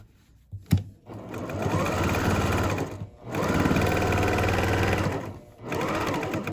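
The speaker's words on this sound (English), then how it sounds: "then I'm gonna stitch across that" A sewing machine stitches across a channel of a rice-filled fabric heat pad, running in three long steady bursts of close, rapid mechanical whirring separated by brief stops.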